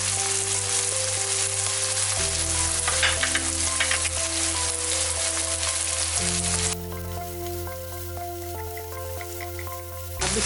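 Corn kernels stir-fry in a pan while preparing a chicken vegetable soup, a loud crackling sizzle that holds steady then eases slightly, with sustained tonal music underneath.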